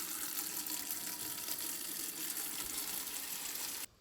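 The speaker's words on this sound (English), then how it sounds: "Just gonna put some hot water in this bucket" Hot water gushing from a tap into a bucket at a remote Arctic cabin, a loud, steady rushing stream close by that cuts off abruptly at the end.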